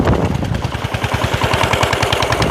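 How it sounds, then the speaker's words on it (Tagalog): An old farm machine engine, about fifteen years in use but still strong, runs loud and close with a rapid, steady pounding beat throughout. "ito yung makina na ginagamit namin luma na pero malakas"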